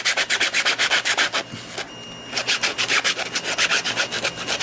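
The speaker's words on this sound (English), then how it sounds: "And they also work well when you're sanding around this. You know, you can sand like this." Hand sanding of a 3D printed part for a replica of Rey's blaster from The Force Awakens, close, brisk back-and-forth rasping strokes in quick rhythm, with a brief pause midway before the strokes resume.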